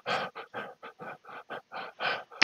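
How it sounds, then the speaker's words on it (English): Dogs panting indoors, a run of about ten short rhythmic breathy bursts close to the microphone, with a brief sharp sniff or click at the end. "I've been invaded by dogs again, so there may be some more noise."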